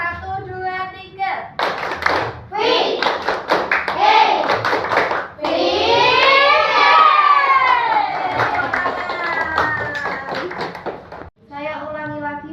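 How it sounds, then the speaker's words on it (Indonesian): A class of children claps a rhythmic tepuk fikih chant together, sharp patterned hand claps interleaved with loud group chanting and shouting, close and lively throughout. "sekarang kita tepuk fikih terlebih dahulu"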